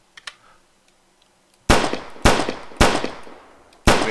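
Pistol fired in a video game, four loud sharp shots spaced about half a second to a second apart, each with a short ringing decay, after a near-silent start with a couple of faint clicks.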